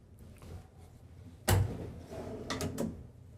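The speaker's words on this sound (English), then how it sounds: "drawers, you can see right there. Easy to, nice soft close." A soft-close, dovetail-jointed drawer in an RV slides shut with a single muffled thump, followed by lighter wooden knocks and rattles, close and fairly quiet.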